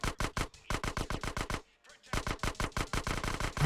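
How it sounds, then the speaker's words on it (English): SMG bursts in Grand Theft Auto: San Andreas on PS2, rapid loud automatic fire in two long strings split by a brief pause. "our SMG is going better"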